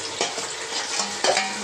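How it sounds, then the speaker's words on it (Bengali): Meat for biryani is sautéed as kosha, a close, steady sizzle broken by sharp spatula scrapes and stirs in an uneven rhythm. "এবার মাংসটা আমরা এখানে কষছি"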